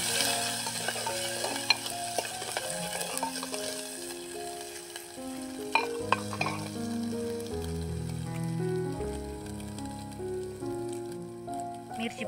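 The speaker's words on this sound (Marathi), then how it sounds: "मिरची भाजत आहे तोपर्यंत थोडासा हिंग टाकायचा आहे." Green chilies frying in a pan for kadhi, a soft continuous sizzle with light crackles, faint and close, under steady background music.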